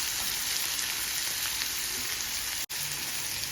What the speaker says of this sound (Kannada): ಸ್ವಲ್ಪ ಚೆನ್ನಾಗಿ ಫ್ರೈ ಆಗಲಿ.